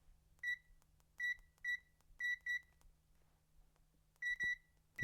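A Zoyi QS7 clamp meter in continuity mode gives short, sharp electronic beeps in uneven bursts, some single and some doubled, with quiet gaps between them and no talking.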